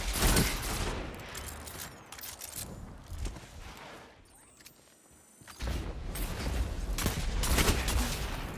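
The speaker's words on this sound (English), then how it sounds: "Nice pulse rifle shot." Pulse rifle fire in a Destiny Crucible match comes in dense rapid bursts with a metallic crackle, then briefly drops away to near quiet before the firing resumes just as heavily.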